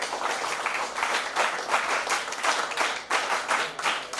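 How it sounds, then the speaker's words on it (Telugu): A group of students performing the NSS clap at a youth parliament event, rhythmic bursts of many hands clapping in unison, repeated steadily and moderately loud in a hall. "ఎన్ఎస్ఎస్ క్లాప్ ఒకసారి మనం చూద్దాం"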